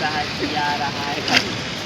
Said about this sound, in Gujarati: ઉપડેથી જે પાણી પડે છે